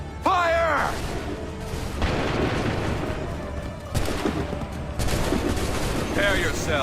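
Massed musket volleys from soldiers in Assassin's Creed 3 crash out repeatedly, loud and close, each ragged burst rolling into the next, with shouted commands heard between the firing.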